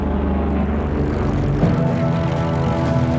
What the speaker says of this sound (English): The Zero was a fast and highly maneuverable aircraft, which in the first year of the war had no equal.